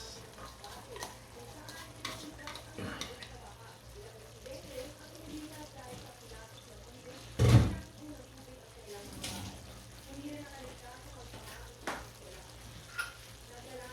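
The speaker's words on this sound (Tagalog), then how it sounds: "Ilagyan na natin tong carrots at patatas." Carrots and potatoes go into a hot frying pan for a budget Filipino dish, with a steady low sizzle, occasional stirring scrapes and one sharp clatter near the middle, while faint talk is heard in the background.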